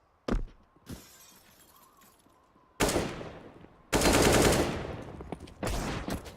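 Counter-Strike firefight with bursts of automatic gunfire: a couple of sharp single shots, then loud sustained volleys of rapid fire with ringing tails, close and without talk.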